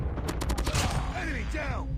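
Rapid bursts of automatic gunfire from Call of Duty Mobile, played on a Poco X3 Pro at max settings and 120 FPS, crackle densely throughout at close range with a steady game backdrop beneath.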